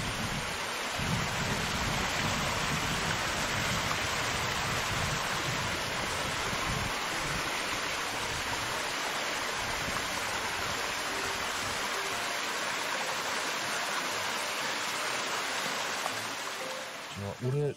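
Steady broadband rush of water flowing down a mountain valley stream near a campsite in Chungju, continuous and fairly loud throughout, with no voices over it.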